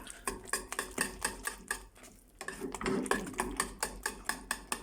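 A spoon scraping rhythmically through thick homemade kashar cheese curds and butter in a pot, a regular run of close clinking strokes with a brief pause midway.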